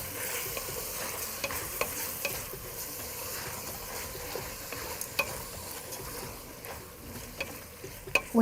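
Shrimp sizzle softly in a pan during a light stir-fry, a continuous faint crackle with occasional small clinks and scrapes from stirring.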